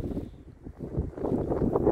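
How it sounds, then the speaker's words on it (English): Wind buffets an outdoor microphone in low, rumbling gusts that swell and grow louder toward the end, with no talking. "I'm truly sorry that it's been very windy and loud at times"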